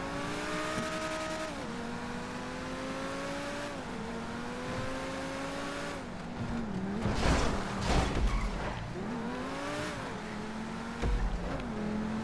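A car spinning out in Grand Theft Auto V: the engine revs in rising and falling sweeps while tires squeal and skid, growing louder and rougher midway, with no talk.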